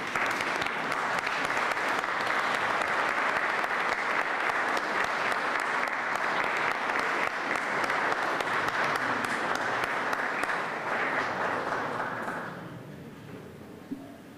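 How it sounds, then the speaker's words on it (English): Graduates at a Griffith College Cork graduation ceremony applaud their families, a dense, steady roar of clapping from a large hall crowd that holds for about twelve seconds before fading out. "express thanks for the support that you received over the years by acclamation, applause, cheers, or however you like"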